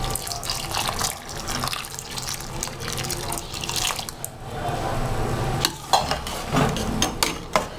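Liquid pours into a pan of chana dal halwa cooking on the stove, a steady splashing trickle that runs for several seconds with a few brief clinks near the end.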